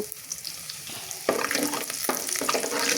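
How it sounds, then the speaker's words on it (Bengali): Minced garlic fries in oil in a pot while being stirred: a soft crackle at first, then a louder, steady sizzle with scraping stirs from about a third of the way in, close and with no talk. "প্রথমে আমরা একটা পাতিলে তেল দিয়ে তার ভিতরে রসুন কুচি দিয়ে দেব ভালো করে নাড়াচাড়া করে নেব"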